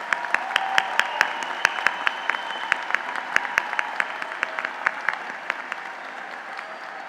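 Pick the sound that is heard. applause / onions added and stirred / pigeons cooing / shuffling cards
applause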